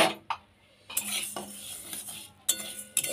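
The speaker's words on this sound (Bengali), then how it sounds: "মুগ ডালটা আমি ভেজে নেব" Mung dal is dry roasted in a hot wok, heard as intermittent metal scraping and clinks of a spatula stirring against the pan, close by, with brief quiet gaps between strokes and no talking.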